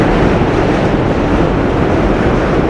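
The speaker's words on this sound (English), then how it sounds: "Subway can be quite overpowering." A New York City subway train in Downtown Brooklyn roars past as a loud, steady, broadband rumble that fills the whole stretch without letup, no voices over it.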